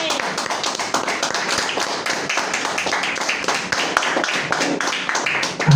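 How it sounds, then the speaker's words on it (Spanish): A church congregation claps steadily at a worship service, dense rapid hand claps sustained throughout at moderate loudness, with faint voices mixed in. "Denle un aplauso al Señor."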